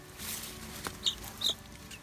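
Chickens cluck a few short, soft notes at a distance over faint background noise.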